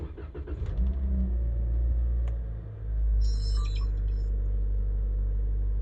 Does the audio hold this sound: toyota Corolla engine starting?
yes